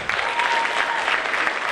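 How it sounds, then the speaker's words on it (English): An audience at a young composers night breaks into a dense, steady round of applause, many hands clapping together at close range with no pauses. "Can we give them one more round of applause?"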